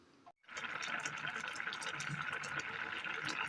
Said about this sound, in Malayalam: നന്നായി ഒന്ന് അരച്ചെടുക്കാം